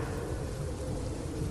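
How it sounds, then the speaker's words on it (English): Rain beginning to fall, a steady wash of patter and hiss with a low rumble underneath, continuous and even throughout, with no voices. "First it starts getting cloudy, and now it's starting to rain."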